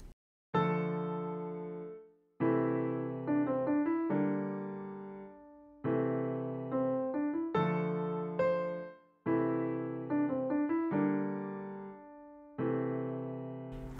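Piano playing a song slowly with both hands, a left-hand bass under the right-hand melody, in steady repeated phrases with sustained chords, close and clear with no voices.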